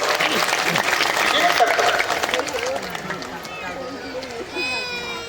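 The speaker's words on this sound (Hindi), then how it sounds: "एक बार जोरदार तालियों का साथ होता है।" A large crowd gives loud, sustained applause at a Shiv Mahapuran religious discourse in Sakri, Maharashtra. The clapping is dense and close, then gradually eases while a voice speaks over it.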